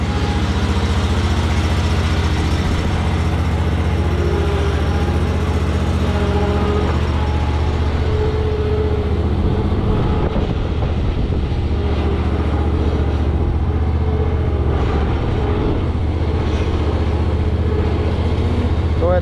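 Kubota zero turn mower engine idling steadily while the mower backs out, a continuous low mechanical drone with a constant hum and no break, close and loud throughout.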